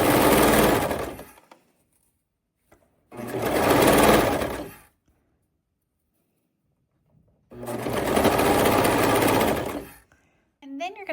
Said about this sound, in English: we're just going to cut this at 1/4 inch as we serge